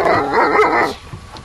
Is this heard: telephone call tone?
no